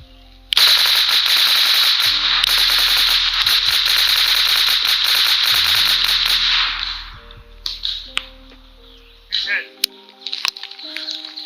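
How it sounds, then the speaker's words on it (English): Airsoft rifle fitted with an RDX B.O.S.S. blank fire system firing a long, loud, rapid automatic burst that cuts off sharply, then a few short follow-up shots and clicks. "having the ability to create a blank fire system for your Airsoft rifle, you can actually shoot BBs, still be effective, and it sounds awesome"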